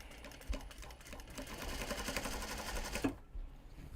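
A domestic sewing machine runs a continuous top stitch along a knot bag, a quick even whirring chatter up close that stops abruptly near the end.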